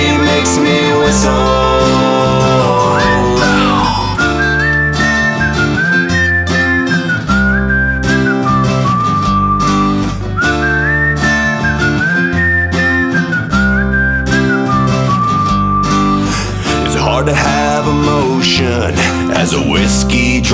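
A person whistles a tune loudly and steadily over full band backing, the whistled melody rising and falling throughout the song.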